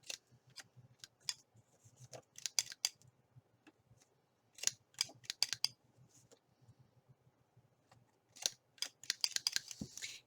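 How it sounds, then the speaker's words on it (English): A corner rounder punch clips the corners of a stamped card in sharp, crisp snaps, arriving in irregular clusters with quiet gaps between them, close and alone with no voices. "what I'm going to do here is I'm going to round the corners"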